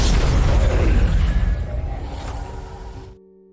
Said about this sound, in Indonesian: Terus ledakan dahsyat terjadi. Gedung itu hancur dan semua yang ada di dalamnya ikut lenyap.